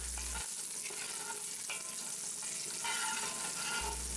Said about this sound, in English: We begin by searing up the bacon in our cast iron pot until it's crisp and all the fat is rendered out.